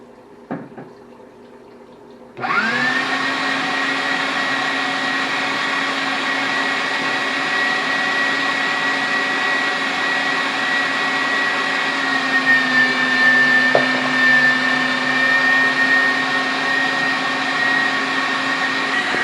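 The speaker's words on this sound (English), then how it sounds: "So now it's time to start grinding the carp." An electric meat grinder grinds carp for sausage. After a couple of seconds of near quiet, a loud, steady motor whine starts and runs on unbroken, close and with no voices.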